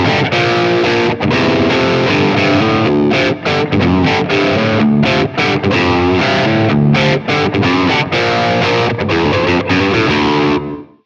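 Electric guitar through the Klowra Limbo reverb pedal on its Room setting, a loud, dense distorted riff with sustained chords and short choppy breaks, a tight touch of ambience around the playing, no voices.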